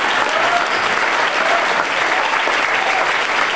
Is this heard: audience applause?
yes